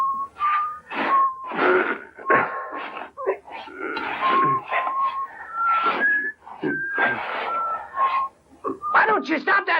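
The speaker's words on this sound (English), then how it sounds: "Why don't you stop that damn whistling?" A man whistles a wandering tune in close, clear bursts broken by short pauses, the melody carrying steadily through the whole stretch in a Western film scene.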